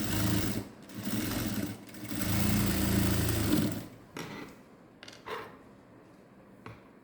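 A sewing machine stitches along the neckline of a net blouse in a few close, steady runs of rapid mechanical whirring, then stops, with only faint clicks and handling noises after.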